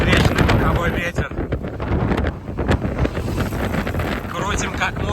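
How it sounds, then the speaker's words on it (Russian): Strong head and side wind buffeting the microphone of a rider on a gravel bike during a hilly 100 km ride, a loud continuous rumbling roar with gusty surges throughout. "Сильный встречный боковой ветер."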